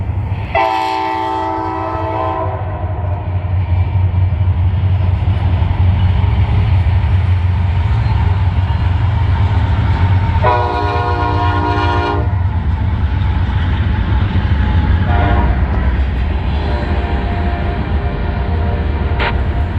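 Norfolk Southern freight NS16R rolling past in New York State with a Union Pacific AC44 locomotive trailing, a loud steady rumble and rail clatter, with horn blasts at the start and again midway.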